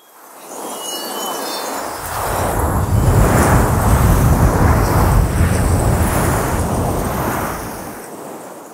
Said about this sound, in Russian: солнечным ветром врывался на поверхность Меркурия